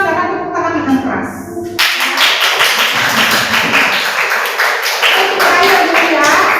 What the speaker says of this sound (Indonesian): silakan tepuk tangan dengan keras